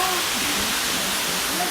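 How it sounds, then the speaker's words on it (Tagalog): Tananga Falls in the Sydney bushland of Australia: a brief, dense, steady rush of falling water fills the air, with a voice speaking over it. "Welcome to Tananga Falls."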